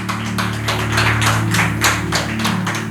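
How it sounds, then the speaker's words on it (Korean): Church congregation clapping in praise during a Sunday worship service, a steady dense applause with rhythmic bursts, heard over sustained organ or keyboard tones. "주님께 영광의 박수 올려드리겠습니다."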